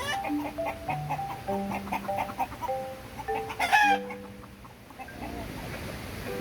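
Free-range farm chickens, including silkies and native hens, cluck and call repeatedly in short, overlapping bursts from close by, with a brief louder squawk in the middle and a few clucks trailing off near the end.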